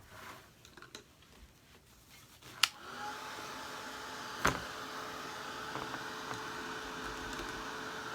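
A hair dryer blows steadily over a freshly coated decorative clipboard, a continuous airy whoosh running from about three seconds on, preceded by a few faint clicks and taps.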